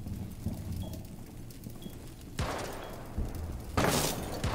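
Thermite's gunfire destroys a gadget in Rainbow Six Siege on PC: two sharp, loud bursts of shots and impact noise break through a low, rumbling game ambience, the second burst brighter than the first.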